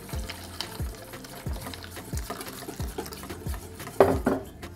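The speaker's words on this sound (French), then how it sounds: "Et on va venir rajouter l'eau et directement touiller pour pas que ça fasse une pâte." A spoon stirs water into a flour mixture for harira in a bowl, giving steady rhythmic scrapes and soft liquid swishes, with a louder clink and splash near the end.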